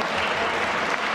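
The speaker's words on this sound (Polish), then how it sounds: "Brawa dla Bartka, proszę Państwa." Brief, dense crowd applause in a sports hall at a handball match, loud and continuous with no gaps.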